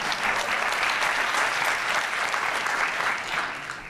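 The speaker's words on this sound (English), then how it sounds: "An introduction getting an applause" An audience bursts into sustained applause following a speaker's introduction at a transport technology panel, dense steady clapping filling the room before tapering slightly at the end.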